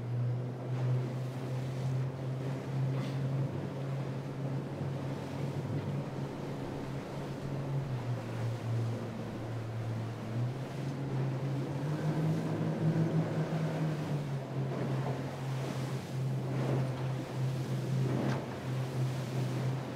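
A 16-foot skiff races downwind on open water in a sailing regatta, with a steady low rumble of wind and water rushing past the hull throughout, no voices.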